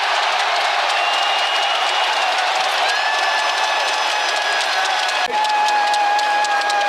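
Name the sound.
basketball arena crowd applauding players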